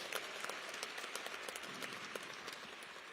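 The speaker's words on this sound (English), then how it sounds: "Give us a warm round of applause." A university audience applauds a groundbreaking announcement at an Alabama A&M event, a fairly faint, even patter of many hands clapping throughout, with no voices over it.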